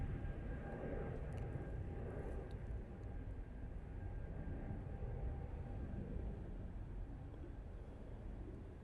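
An Airbus A320neo airliner departs Manchester Airport, its engines a broad, steady roar at a distance that holds at the same level throughout, with no one talking.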